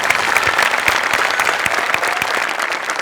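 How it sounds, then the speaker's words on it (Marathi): A studio audience at a Marathi comedy show breaks into loud, steady applause, dense clapping sustained evenly for the whole stretch. "रसिका आज तू सुटली होतीस आणि तुझ्यासाठी जोरदार टाळ्या."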